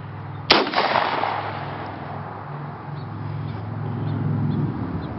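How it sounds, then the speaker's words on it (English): A single 12 gauge Browning shotgun blast during a rabbit hunt outdoors, one sharp loud report with a short rolling echo fading over a few seconds into quiet field ambience. "This is a 12 gauge Browning shotgun."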